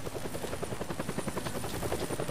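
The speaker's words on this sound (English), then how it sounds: "That's the chopper." Helicopter in the Deadlight video game, a steady close rotor chop with rapid regular beats filling the whole stretch, loud and alone with no talk.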